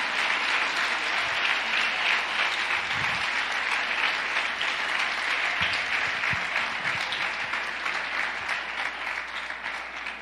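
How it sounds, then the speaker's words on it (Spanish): A church congregation applauds during a Sunday worship service, a dense, steady wash of clapping that fills the room for several seconds and fades slightly near the end. "Yo quiero que tú aplaudas al Señor."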